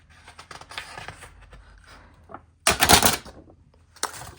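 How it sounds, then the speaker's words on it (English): First two pages peeled off a handmade weekly planner pad: scattered soft rustling and ticking, then a loud ripping tear of paper near the end followed by a brief second tear. "let's peel off the 2 first pages"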